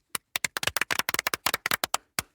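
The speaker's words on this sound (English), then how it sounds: "Everyone clapped." Audience at a children's science fair claps in a brief burst of sharp, irregular hand claps, close and distinct, trailing off to a final lone clap.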